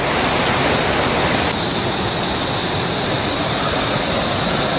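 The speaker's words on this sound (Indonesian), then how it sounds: "Di belakang gua ada air terjun guys" A mountain waterfall on Gunung Gede Pangrango pours in a dense, constant roar of broadband rushing water, loud and close throughout, without talking.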